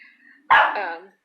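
A single sharp, loud dog bark close by, abrupt onset trailing into a brief harsh tail, preceded by a quiet moment.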